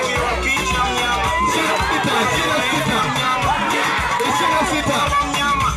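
Wedding guests ululating amid a loud, lively crowd, high trilling cries blending with cheering and general hubbub throughout.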